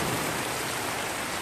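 Heavy downpour over flooded rice paddies, a steady, loud wash of broadband hiss with no breaks or voices.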